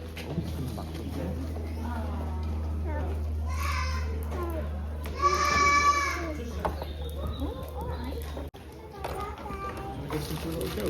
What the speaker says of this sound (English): Listen to the little goat.